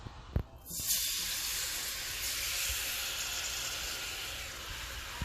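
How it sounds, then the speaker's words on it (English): Peaches tossed into browned whole butter in a hot pan hiss into a steady, loud sizzle that holds evenly throughout, with no talking. "This is some whole butter that I browned up a little bit. And I'm going to toss my peaches in it."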